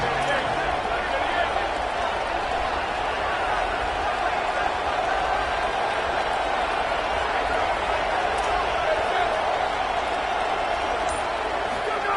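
A college football stadium crowd roars on third down as the Ole Miss defense takes the field, and a continuous loud wash of cheering and noise fills the whole stretch, broad and distant-sounding.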